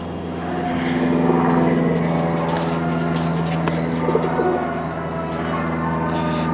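Pigeons cooing on a rooftop in Lahore, with soft, low, repeated coos over a steady background hum and faint ambient noise, moderately near.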